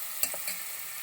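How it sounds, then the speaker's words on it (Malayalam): Turmeric powder is stirred into a Kerala-style ripe mango curry in a pan. A few quiet, quick scrapes sound over a soft, steady sizzle. "മഞ്ഞൾപ്പൊടി ഇട്ട് നന്നായിട്ട് ഇളക്കി."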